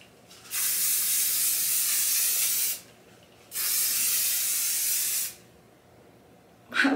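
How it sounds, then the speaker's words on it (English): Hairspray from an aerosol can misted onto curly hair in two long, steady hissing bursts of about two seconds each, close and fairly loud, followed by a short final puff. "And then hairspray to the gods."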